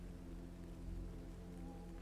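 Steady, dense rainfall hissing and pattering on surfaces, a constant wash of sound at a moderate distance with no voices.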